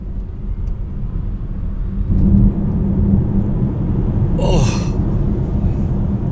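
Electric SUV, a Zeekr 7X or Tesla Model Y, launched hard from inside the cabin: a steady low rumble and road roar builds and holds for several seconds, with a brief gasp-like breath partway through and no engine note.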